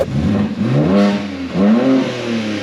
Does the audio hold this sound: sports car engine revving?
yes